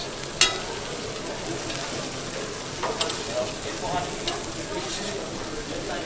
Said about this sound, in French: On fait cuire l'andouillette sur le côté du bilic. Ça cuit très très vite.